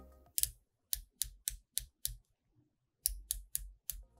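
Aluminum bezel of an Oris Divers 65 dive watch being rotated, giving two runs of crisp, light clicks, about five in quick succession, a pause, then four more, close and distinct with no talking.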